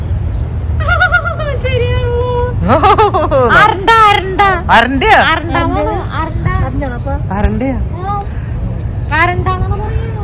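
Water birds at a waterfront in Dubai give a series of clear, tonal, chirping calls, some rising and some falling, fairly close and loud, with voices murmuring in the background.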